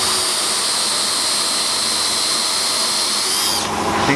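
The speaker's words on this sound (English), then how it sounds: "I believe it's a 1/2 inch Forstner bit" A drill spins a 1/2 inch Forstner bit through wood with a loud, steady high whine close by, then the pitch drops as the bit slows near the end.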